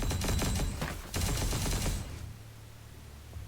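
Rapid bursts of gunfire from the Punishing: Gray Raven video game, loud and close, packed shots for about two seconds before cutting off into a quieter low hum.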